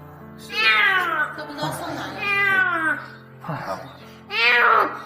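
A rescued kitten meowing loudly and repeatedly, several long, rising and falling cries close by, with a voice talking faintly underneath.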